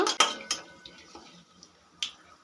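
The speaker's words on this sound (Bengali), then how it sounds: "গোটা মশলাগুলো একটু নাড়াচাড়া করে নেব" A spoon clinking against a pan while whole spices such as cumin and cardamom are stirred in hot oil: a few sharp metallic taps and scrapes, close and fairly loud, with one more knock near the end.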